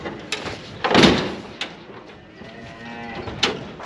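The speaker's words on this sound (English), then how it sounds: "we're loading up some cows and calves" Cattle moo while cows and calves are loaded onto a trailer, with one loud close moo and a few shorter calls, plus metallic clanks and knocks from the loading gear.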